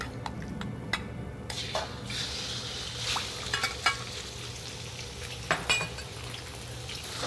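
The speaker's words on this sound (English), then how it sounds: "we are going to cook the meat" Meat for a curry fries in a pan with a steady sizzle, broken by clinks and scrapes of a utensil stirring against the cookware. No one speaks.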